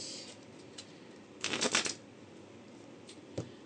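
Oracle cards being shuffled for a card reading, giving a brief burst of riffling in the middle followed by a single soft snap, fairly close and quiet with no talk.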